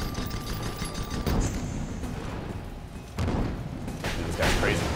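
Rapid gunfire shots from an airship battle in a video game, crackling bursts under steady game noise and background chatter, with louder volleys near the end.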